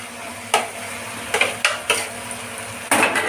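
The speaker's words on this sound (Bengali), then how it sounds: "তেল বেরিয়ে গেছে, এবার আমি এইগুলো গাটি কচুগুলো দিয়ে দিচ্ছি।" Taro pieces hit a pan of oily spice paste, giving a low sizzle under several sharp clatters as a spoon or ladle stirs and scrapes against the pan at irregular intervals, close and fairly loud.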